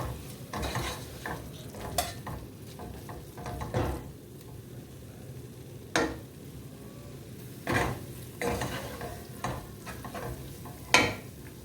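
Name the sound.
stirring egg marinade masala into biryani in a pan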